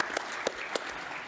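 Brief applause from people in a conference room, faint steady clapping with a few distinct louder claps, short and at low level.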